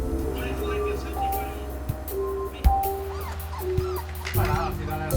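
A dog whimpers and yips on a boat leaving Monterey for Los Angeles. High, wavering whines repeat under someone talking and a steady low engine hum.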